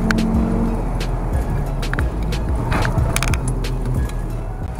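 A Golf 2.5L Mk6 hatchback runs a winding canyon road, its engine and tire roar holding steady and loud, broken by scattered sharp clicks and rattles from inside the cabin.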